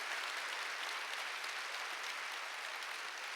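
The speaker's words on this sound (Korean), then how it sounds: "박수 좀 세게 쳐요." A church congregation breaks into steady, dense applause, many hands clapping at once in a continuous even wash of sound from a crowd in a large room, with no voices standing out.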